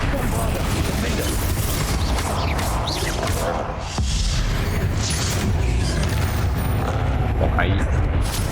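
Bombarda blasting spell in Hogwarts Legacy, heard as loud booming crashes and rumbling bursts in a dense, continuous battle din, with a voice talking over it.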